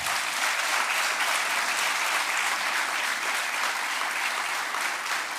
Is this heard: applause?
yes